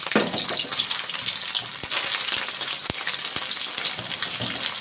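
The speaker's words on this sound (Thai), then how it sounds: "ลงคั่วนะจ๊ะ พริกแกงลงคั่วนะคะ" Thai curry paste stir-fried in hot oil in a pan gives a loud, dense sizzle throughout, punctuated by sharp clinks and scrapes of a spatula at irregular intervals, with no talking.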